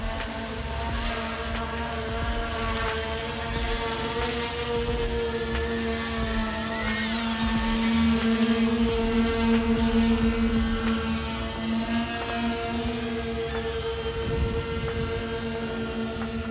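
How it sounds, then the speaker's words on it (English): A Wingtra One Gen 2 VTOL mapping drone flies back and lands, its motors giving a steady droning whine with layered harmonic tones that hum on at moderate distance, no talking. "The drone has finished the mission. And it's going to fly back now."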